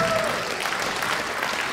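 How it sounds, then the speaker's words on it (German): Audience applause at a women's volleyball match between Schweriner SC and Allgäu Team Sonthofen, a steady wash of clapping filling the hall, with a brief tone at the start. "Und dann kann sie auch den Applaus machen."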